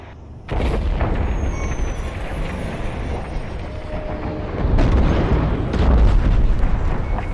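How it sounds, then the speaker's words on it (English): A frigate explodes in Star Wars: Squadrons, opening with a sudden loud blast that becomes a long roaring, rumbling wall of explosion. The roar swells again toward the end and is heard close and without speech. "The frigate is about to explode."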